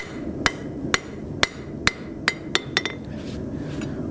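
Sharp metallic hammer strikes on an anvil ring out one after another, about one every half second, speeding into a quicker flurry of blows near the end, during blacksmith forging.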